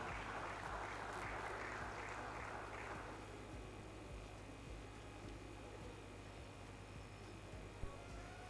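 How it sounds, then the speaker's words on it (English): Audience at a university Faculty of Engineering conference applauds the Dean, a burst of clapping for about three seconds that fades into quiet room hum. "Another hand of applause for the Dean"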